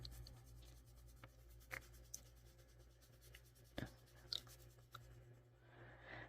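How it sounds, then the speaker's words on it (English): Colored pencil lightly coloring on paper, soft continuous scratchy strokes close up with a few brief louder taps and scrapes over a faint steady hum. "I'm just putting down a very light layer of the colored pencil."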